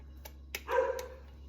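A dog passing by outside gives a couple of short, faint barks at a distance, set among light ticking clicks in a quiet room, with no talking.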